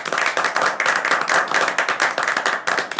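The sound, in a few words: hand clapping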